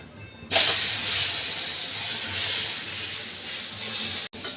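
A beetroot dosa cooking in ghee on a hot pan sizzles with a bright, steady hiss that starts suddenly after a short pause and continues close-up until a brief cut near the end.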